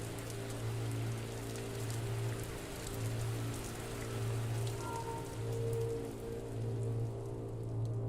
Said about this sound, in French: Ce jour-là, il pleut énormément.